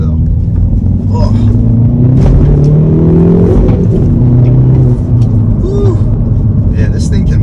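A 2022 Hyundai Veloster N with a 6-speed manual accelerates hard in sport mode, its engine rumbling loud and close with rising revs, and a shift partway through.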